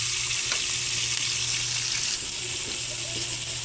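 Onion and garlic hitting a hot pan with ginger and tomato for salmon belly sinigang sa miso, a loud continuous sizzle close up from start to finish, no voices.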